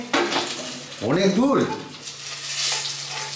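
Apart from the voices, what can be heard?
cooking with pots and stirring, frying in a kitchen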